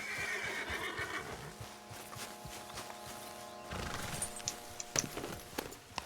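Horse whinnying in the Western video game Red Dead Redemption 2, a short neigh early on with scattered hoof clops and light game ambience beneath, fairly close and moderate in level.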